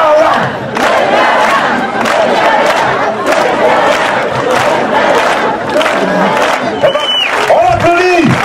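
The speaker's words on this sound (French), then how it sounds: "On applaudit!" A comedy-night audience in a French venue cheers and claps loudly and steadily for several seconds, a dense crowd roar with shouts mixed in.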